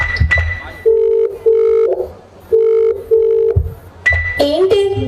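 Telephone ringback on an unanswered call: two pairs of steady tones sound, pause and repeat twice, with short keypad or handset beeps at the start and end, heard clearly in a staged school skit.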